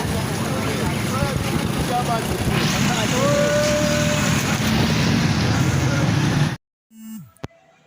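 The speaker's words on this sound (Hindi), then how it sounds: "तो शोर बहुत ज़्यादा है, ट्रैफिक भी बहुत ज़्यादा है।" Loud, dense street traffic roars continuously, with engines and a sustained horn-like tone layered in the din, then cuts off abruptly near the end.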